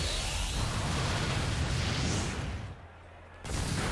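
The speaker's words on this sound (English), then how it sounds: "Rhydon's going to go for the Misty Explosion" Misty Explosion move used by Rhydon in a Pokémon video game battle: a loud, sustained roaring burst of broadband blast noise that briefly drops away before surging back.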